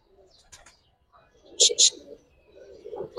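Giribaz pigeons coo in a few short, soft calls close by, with brief pauses between them, amid quiet background sounds.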